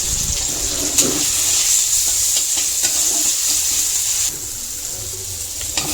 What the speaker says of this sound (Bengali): এবারে আমি সবজিটা দিয়ে দেবো, এটা একটু নেড়ে নিই